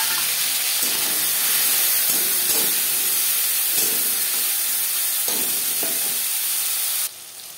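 Chopped tomatoes hit hot mustard oil with whole cumin, giving a loud, steady sizzle and spitting hiss that fills the whole stretch, with a few soft stirring knocks, before cutting off abruptly near the end.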